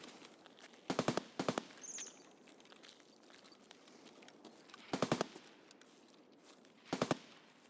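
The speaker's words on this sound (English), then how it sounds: "That's a lot of AK fire" AK rifle fire in Escape from Tarkov rings out in distant, faint bursts of several rapid shots each, four separate volleys spaced across a quiet background.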